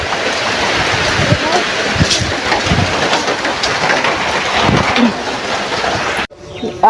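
Heavy rain pours down outdoors, cutting into the soil, a dense steady hiss heard up close for several seconds under people talking, before it cuts off near the end.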